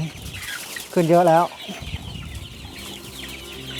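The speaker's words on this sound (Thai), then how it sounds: "ไก่ของเราก็เริ่มจะโตแล้วนะครับ" Young chickens in a coop during the rainy season, a loud close cluck or squawk standing out briefly amid softer background clucking, with someone speaking over it.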